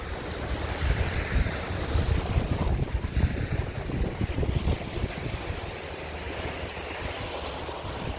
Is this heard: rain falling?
no